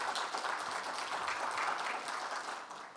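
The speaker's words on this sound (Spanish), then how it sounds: "Un aplauso para él, por favor." An audience at a mining economics conference applauds, a steady wash of many hands clapping at moderate volume that fades slightly at the end.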